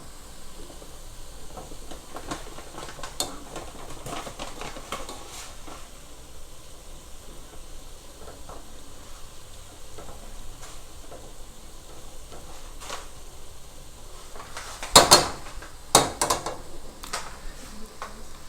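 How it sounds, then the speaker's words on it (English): Soft, quiet sizzling and light scraping from a pan of vegetables stir frying in water with no oil, with a few sharper clatters and hisses near the end; no talking. "I have added a bit more of the water to keep these vegetables stir frying in here"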